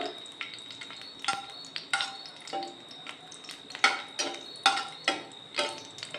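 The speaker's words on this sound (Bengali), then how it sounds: "এখন আমাদের কিশমিশটা ফ্রাই হয়ে গেছে।" Raisins frying over very low heat in a pan, a soft sizzle broken by a string of sharp clicks and taps as they are stirred, fairly quiet and without talking.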